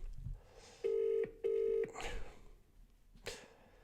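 A telephone call goes out: two long, loud ringback tones repeat at an even pace, with faint background noise between them.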